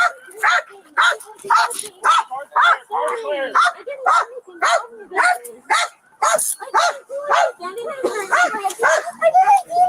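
Dog barking repeatedly in a rapid, loud series, with yips and whimpers mixed in, heard up close during a roadside confrontation while people talk over it.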